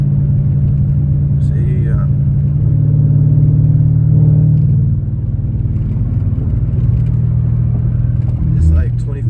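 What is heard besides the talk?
BMW 650i engine accelerating into boost with front mount intakes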